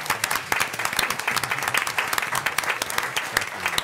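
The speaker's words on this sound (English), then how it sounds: "Let's give him a round of applause for that." An audience at a city commission meeting applauds steadily, dense clapping from many hands filling the room at an even level throughout.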